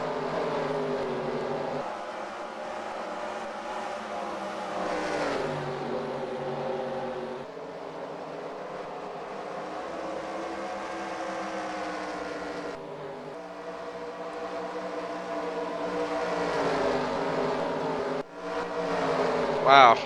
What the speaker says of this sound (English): Wow, there's just so many cars, it's crazy